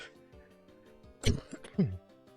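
A few short, harsh coughs burst out close by after a quiet, low murmur, each sounding a little rough and throaty.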